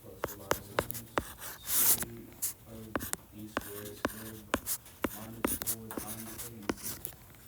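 Marker strokes on a classroom board as the quadratic formula is written out, with a series of short, distinct squeaking and tapping strokes under a teacher's intermittent speech.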